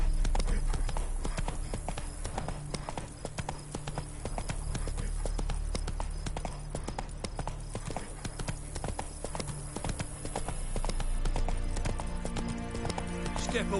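Roach, a horse in The Witcher 3 video game, gallops with rapid, continuous hoofbeats that stay loud and close over a steady game background.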